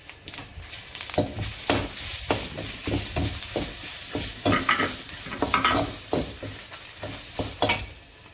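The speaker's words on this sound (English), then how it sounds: "We want to fry this until it becomes slightly brown or slightly toasty." Garlic, jeera and pepper frying in a pan for rasam, a steady sizzle broken by repeated scraping stirs of a spoon at an even rhythm, close and moderately loud with no voices.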